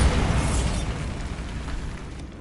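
Bombarda spell blast in Hogwarts Legacy, a loud booming explosion with a heavy low rumble that fades slowly over a couple of seconds, no talk.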